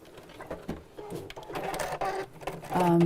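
A sewing machine running a straight seam across a furry bag, its motor whirring and speeding up toward the end, close and fairly loud.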